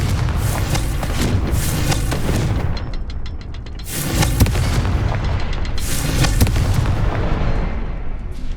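Confringo blasting spell cast in the game Hogwarts Legacy, heard as a run of loud, heavy booming blasts in quick succession, each with a dense rumbling roar that spreads and fades between hits.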